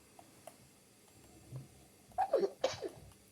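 A single close sneeze bursts out after a few quiet breaths and small ticks, sharp and brief against a quiet room.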